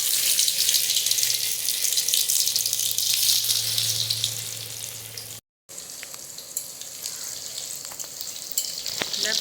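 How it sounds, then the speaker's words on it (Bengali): Boiled potato pieces for a vegetarian Bengali alur dom fry in hot oil, giving a continuous loud sizzle with occasional stirring clinks and a brief cut midway. "এবার আমরা লাল লাল করে ভেজে নেব"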